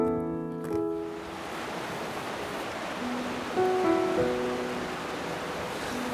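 Soča river flowing near its source in Triglav National Park, a steady broadband rush of water, close and continuous, with faint tonal music underneath.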